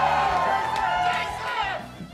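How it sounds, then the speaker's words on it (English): A live audience at a fantasy football show in Dallas shouts and cheers loudly all at once, a dense roar of many voices close by that eases slightly toward the end. "There was multiple people that just shouted for Jason."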